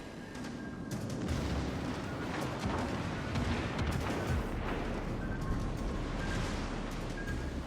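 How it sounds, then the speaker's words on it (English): Enemy battleship salvos in World of Warships: Legends, played with the Yamato, rumble as a dense, continuous wall of booming gunfire and low explosions, steady and fairly loud throughout. "So I am able to dodge his first salvo here, which is quite lucky."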